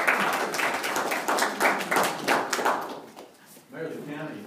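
Applause at a city council meeting about shootings: a room of people clapping for the police in a dense, rolling burst that swells and tapers, briefly dipping before picking up again.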